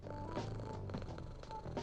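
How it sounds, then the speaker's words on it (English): A cat purring in the video game ORDER 13, a steady, continuous rumbling purr, close and fairly loud, alone with no talk. "Is there purring for the kitty cat? There might be."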